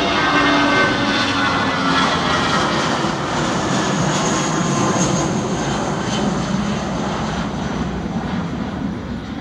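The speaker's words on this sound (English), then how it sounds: "And here we go. We got one taking off." An American Airlines jet takes off at Charlotte Douglas International Airport, its engines giving a loud, sustained roar with a high whine on top, heard steadily from a lookout area with no talking.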